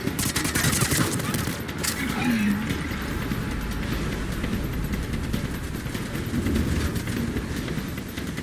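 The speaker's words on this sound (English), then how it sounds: "Commander, I've got enemy contact! Under fire!" Mass Effect 3 video game gunfire during a firefight, a continuous dense clatter of shots layered under a steady rumbling din, loud and unbroken throughout.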